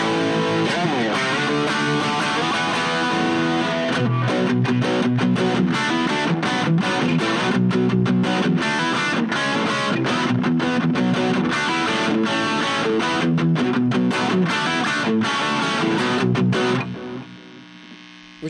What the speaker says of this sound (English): You could also throw a bunch of distortion on there.